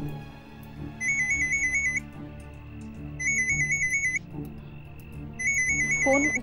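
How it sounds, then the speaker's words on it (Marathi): A phone rings with an electronic trilling ringtone in three separate bursts, each about a second long, loud and close over a quiet indoor background. "फोन उचल ना."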